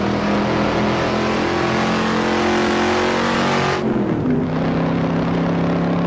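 A modified car engine revs hard and steadily, then the pitch drops sharply as a gear is forced in without the clutch and settles into a lower drone, loud and close with no voices.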